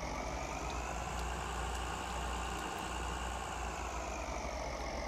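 A John Deere tractor engine idles and runs in Farming Simulator 2013, a steady, continuous low drone at an even level throughout with no talking.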